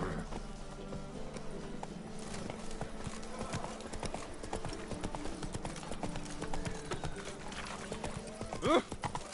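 Roach, a horse in a video game, gallops along with rapid, continuous hoofbeats up close over a busy game soundscape, ending with a brief whinny-like cry near the finish.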